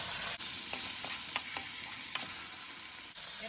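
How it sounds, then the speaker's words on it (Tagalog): Onion, garlic and tomato sautéing in a pan for ginataang kalabasa, a steady close sizzle with scattered soft stirring scrapes throughout, no talking. "Lutuin natin ng saglit ng bahagya ang onion and garlic. Then, sunod natin ang tomato"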